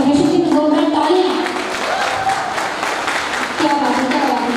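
An audience at a company's sixth-anniversary celebration applauds in a steady burst of clapping, while a loud voice speaks over it through a microphone.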